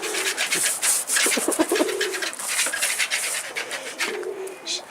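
Pigeons coo in soft, repeated throaty bursts close by, with some higher chirping and fluttering noise around them and no talking.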